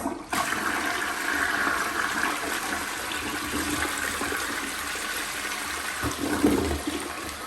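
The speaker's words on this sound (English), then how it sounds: "So I'm gonna flush it right now." A toilet flushing just after being scrubbed with a disposable Clorox toilet wand: a loud, steady rush of water filling the whole stretch, with a brief gurgling surge near the end.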